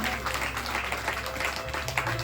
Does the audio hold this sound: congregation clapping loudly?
yes